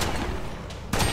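Razor shot weapon firing in the video game West of Dead, heard as a dense rattle of gunfire that runs through most of the moment, ending in a louder burst of shots.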